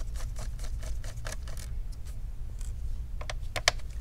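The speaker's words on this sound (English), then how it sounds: "let's go ahead and remove all the screws" A Phillips screwdriver works screws out of an HP Pavilion 15 laptop, giving rapid, light clicking and ticking scrapes close up, steady throughout with a sharper click near the end.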